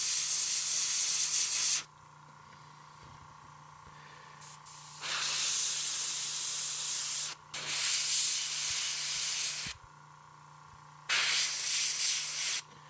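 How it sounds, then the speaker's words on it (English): An airbrush sprays paint onto a Hive Tyrant miniature in four sustained bursts of airy hiss, each a few seconds long, separated by quiet gaps where a faint steady hum persists underneath. "So I'm gonna hit that from a distance just with the airbrush to put some air on it and get it to dry"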